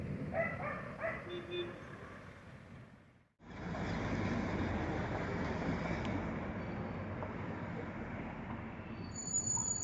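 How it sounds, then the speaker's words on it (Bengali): After a few short barks, the narrow-gauge Darjeeling toy train rumbles past nearby at Ghum, with a steady, loud roar of wheels and engine that continues to the end. "অবশেষে দেখা পেলাম তার টয় ট্রেন"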